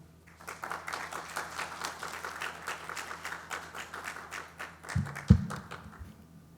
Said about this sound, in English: Let's give another round of applause to the seasoned chair of the SBA annual